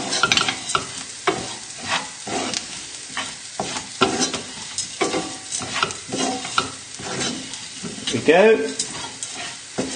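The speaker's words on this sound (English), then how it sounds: "So just give this a stir round just to ensure that everything's getting coated." A spoon scrapes and stirs rice with chorizo, garlic and shallots in a sizzling pan, close rhythmic strokes over steady frying, with a brief spoken remark.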